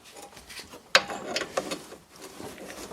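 A ratchet socket wrench with an 18 mm socket working on the front driveshaft of a Renault Express, giving a sharp metallic click followed by a few quieter ratcheting clicks, close up in a quiet garage.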